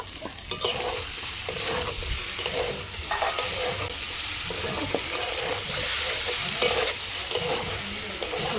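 Mixed vegetables are stir-fried in a pan with turmeric, a constant close sizzle punctuated by frequent clacks and scrapes of the spatula against the pan, with no voices.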